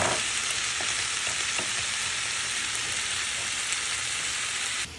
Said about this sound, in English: I just continually stir with the whisk until it's completely dissolved